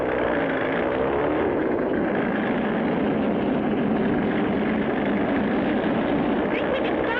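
Steady loud drone of an oil tanker plane's engines revving for takeoff in a 1959 cartoon, a continuous roaring hum with no break and no voices.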